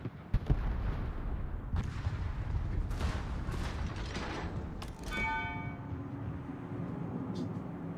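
Secondary guns aboard a warship in World of Warships fire in a sequence of sharp booming shots, close and loud over a rumbling battle background, followed by a ringing metallic tone near the end.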